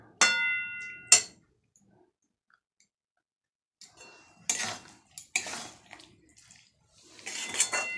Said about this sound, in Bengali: মিক্সারে বাটিটা ধুয়ে জল দিয়ে দিই